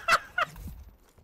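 A bird struck by gunfire in the shooter game Call of Duty Cold War gives two short, bright squawks close together, then a low fading flutter and thump. Nobody talks over it.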